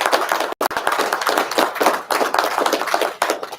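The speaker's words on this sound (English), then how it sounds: "give ourselves a round of applause for those numbers" A crowd at a press conference claps in a brisk, dense burst of applause, steady and fairly loud throughout.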